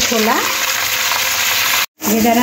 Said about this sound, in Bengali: ছোলাটা তেলের মধ্যে একটু নাড়াচাড়া করে নেব